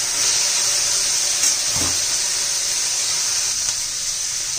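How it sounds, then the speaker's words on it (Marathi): Mustard and cumin seeds sauté in hot oil for a broad, steady sizzle and hiss that holds close and loud from start to finish, with a brief stirring scrape near the middle. "त्यात थोडी मोहरी घालू, जिरं घालू, बरोबर परतून घ्यायचे आपल्याला चांगलं।"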